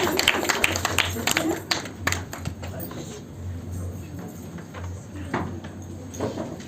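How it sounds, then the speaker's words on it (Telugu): Audience applauding at a Surabhi Academy awards ceremony in Telangana for teachers and students, a steady patter of claps with sharper bursts, mixed with crowd chatter and a low hum. "కూర్చున్న వాళ్ళు నిలబడే చప్పట్లు కొడుతూనే ఉండాలేమో."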